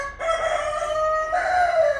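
Rooster crowing close by, a loud drawn-out call in two strained phrases, heard alone.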